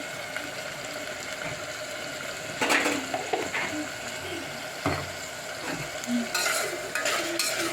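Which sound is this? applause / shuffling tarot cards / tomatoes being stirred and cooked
tomatoes being stirred and cooked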